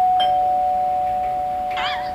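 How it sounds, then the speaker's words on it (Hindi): A doorbell chimes near the end, a bright electronic ding-dong ringing out clearly over a steady hum. "डोरबेल बज गया क्या?"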